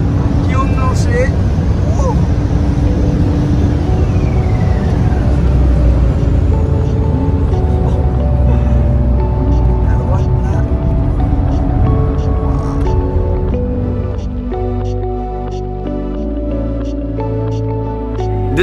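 A car engine runs at full throttle near Le Mans during the 24 Hours weekend, a loud sustained roar with rising and shifting tones, while someone talks over it.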